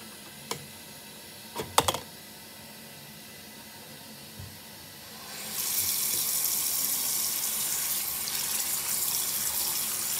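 Warm water runs from a tap into a sink for washing a skeleton model, a steady hissing stream that starts partway through after a few light clicks and continues close and even.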